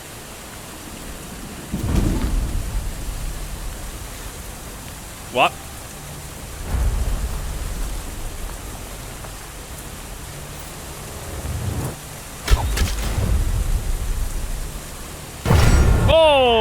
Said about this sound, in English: Oh my god, it's fucking raining.